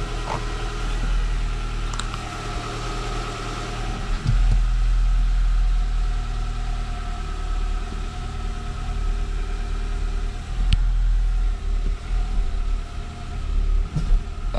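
A car's engine idles steadily after being started, a constant low rumble with occasional faint clicks and thumps nearby, no voices.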